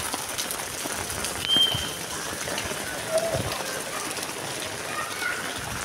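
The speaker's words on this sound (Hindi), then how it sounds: "और इस वक्त इतनी तेज बारिश हो रही है" Heavy stormy rain pours down in Karachi as a steady, dense hiss that fills the whole scene, with a few brief louder bursts and faint bird calls in the background.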